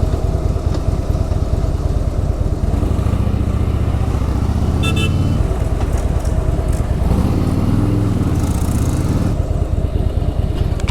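A motorcycle rides along the service lane of the old Mysore highway, its engine droning loud and constant up close with steady wind buffeting and brief shifts in engine pitch.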